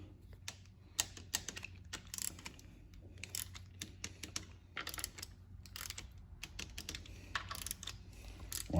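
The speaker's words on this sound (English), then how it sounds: "then just start torquing these bolts" A torque wrench tightening the valve body bolts on an E4OD/4R100 transmission during final assembly gives repeated sharp mechanical clicks and ratcheting, close up, in irregular bursts with no talking.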